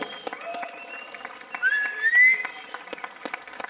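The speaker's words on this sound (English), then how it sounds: "please, big applause to Mr. Teixeira" At the Tyrnhaw 2025 competition finals, a small audience gives sparse, scattered claps for the third-place winner, with a rising whistle cutting through midway.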